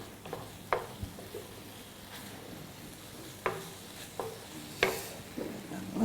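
Tofu scramble is stirred in a hot pan, a faint sizzle broken by a few sharp scrapes and clacks of the utensil.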